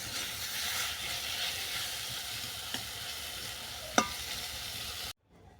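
Eggplant, peas and bathua greens stir-frying in a pan give a steady, close hiss and sizzle throughout, with a couple of brief clicks from stirring before it cuts off abruptly.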